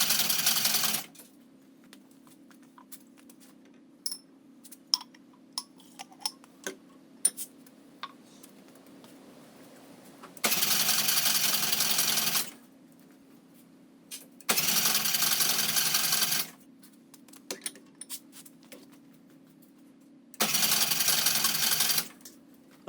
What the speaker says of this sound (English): So what I'll do is I'll just keep pumping it out until I get it clear.